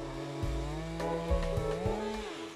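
A chainsaw runs steadily during big-tree felling, with its engine pitch shifting up and down as it cuts, moderately loud without talk.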